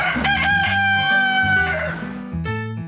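A rooster sound effect from the You Don't Know Jack sports quiz video game, a loud, close cock-a-doodle-doo crow with clucking fowl in the background.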